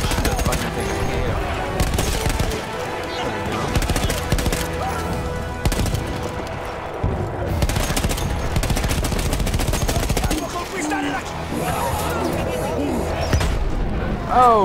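Battlefield 1 campaign combat with a soldier in an armored suit: rapid machine-gun bursts and heavy booms of gunfire, loud and continuous, with a player talking over the fight.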